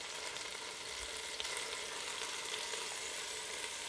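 Garlic sautéing in hot oil in an Instant Pot before a pot roast, a dense, even frying hiss with faint pops, close and steady.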